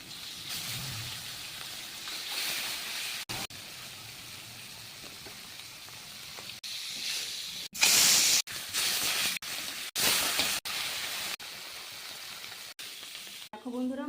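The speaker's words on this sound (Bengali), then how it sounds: "প্রথম 2 পিস ভাজবো, কারণ বড় বড় মাছ তো 2 পিস করে ভেজে নিচ্ছি" Large fish pieces fry two at a time in hot oil in a wok, giving a continuous sizzle and hiss broken by sharp crackling bursts. Spatters grow louder in places.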